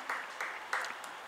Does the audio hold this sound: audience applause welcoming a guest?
yes